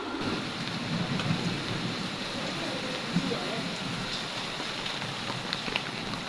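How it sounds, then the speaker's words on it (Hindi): Heavy rain pours down steadily in a dense, continuous hiss, with low rumbling underneath and no pauses. "बारिश बहुत ज़्यादा हो रही है"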